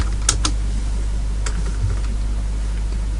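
Typing a folder name on a computer keyboard, a few quick close key clicks in a short burst, then a single tap and sparse light clicks over a steady low hum.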